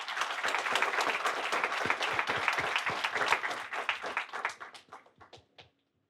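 Applause of thanks from an audience at an academic humanities lecture, steady dense clapping that thins into a few scattered individual claps and fades out to silence.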